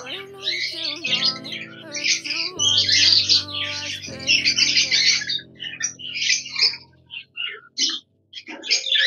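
Hungry pet birds squawk and chirp busily while feeding, overlapping harsh calls in a loud, close chorus that thins out into scattered squawks toward the end.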